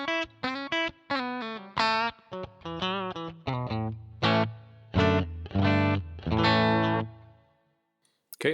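Distorted electric guitar through a Boss GT-1 with JC-120 preamp and reverb, a series of plucked notes and chords in a melodic phrase, each ringing out with a spacious tail.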